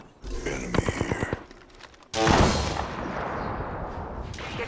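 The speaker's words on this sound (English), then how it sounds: "Getting shot at." Bursts of gunfire crack in a video game arena shooter, a rapid volley followed by a loud blast and sustained rumbling, with faint voices in the background.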